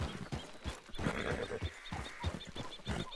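An agitated horse in the video game Red Dead Redemption 2, with steady rhythmic hoofbeats and snorting or whinnying over a close, busy outdoor backdrop and no talking.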